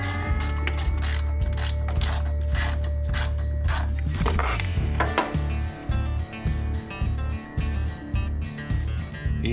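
A ratchet works in rapid clicking bursts to unbolt the engine computer on a Jeep. The ticking comes up close and fairly loud over a low mechanical hum, with some clunks from handling the part midway.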